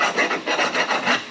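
A small coping file rasps around the inside of a bandsaw cut in a metal part, five or six steady back-and-forth strokes in an even rhythm, close and clear with no talking.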